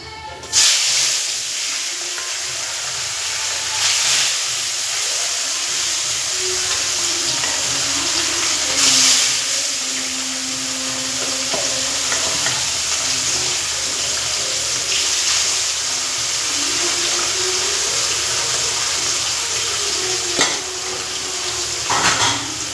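Fish pieces fry in hot oil in a pan with a loud, steady sizzle and hiss that lasts throughout, broken by occasional clinks of a utensil against the pan.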